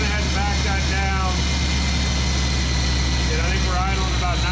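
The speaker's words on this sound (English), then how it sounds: "And I think we're idling about 930 right now, somewhere in there." A car engine fitted with Aces EFI Killshot throttle-body fuel injection idles at a steady low rumble, close and continuous, with someone talking over it.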